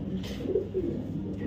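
A racing pigeon coos softly nearby in a few low rolling notes, faint against a quiet background.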